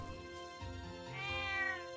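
A cat meows in the video game Trails of Cold Steel 2, heard as one drawn-out, rising and falling meow over a soft game music bed, with no talking.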